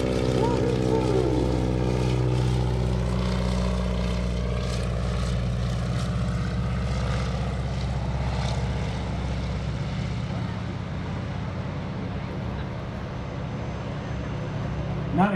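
At the 2016 Greenwood Lake Airshow, a propeller airplane flying a wingwalking act drones steadily for the whole stretch, its engine tone slowly shifting as it passes, with crowd noise and a commentator's voice beneath.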